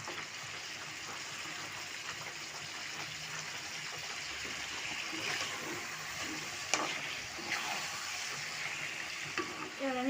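Meat and spice masala fry in oil in a pan, a steady close sizzle with faint stirring and scraping throughout, and a voice speaks quietly at times.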